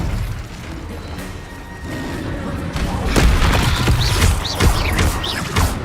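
A disarming spell goes off in the Hogwarts Legacy game, a loud magical burst with booming impacts and whooshing effects, while a voice is heard among the clash.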